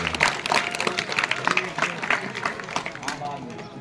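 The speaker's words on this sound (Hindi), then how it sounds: "एक बार जोरदार तालियां।" Students and guests clap at a school event at an inter college in Kimsar. The applause is lively and uneven, with sharp individual claps standing out over a scattered crowd.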